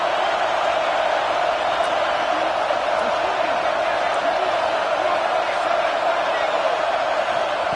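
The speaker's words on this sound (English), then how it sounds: "The crowd getting behind this defense as they try to get a stop in the red zone." A football stadium crowd at a Texas versus Alabama game roars in a sustained, steady wall of noise behind the defense in the red zone.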